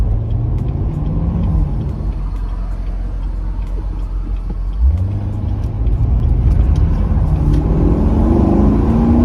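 Chevrolet Corvette C7 cruising on the road, a steady low engine and road rumble with a gear-like pitch shift midway and rising drone toward the end, fairly loud and close with no talk.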